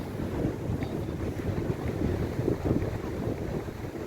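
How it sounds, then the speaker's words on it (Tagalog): Steady wind buffeting the microphone at a scenic viewpoint on Tung Lung Chau, a low rumbling roar that stays constant throughout with no voices. "Mahangin nga lang."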